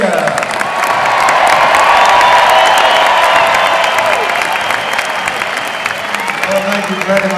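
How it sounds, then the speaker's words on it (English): Large outdoor audience at the Edinburgh Military Tattoo finale cheering and applauding in a loud, sustained roar of clapping and shouts that swells early and eases slightly toward the end. "Please give them one final rousing cheer."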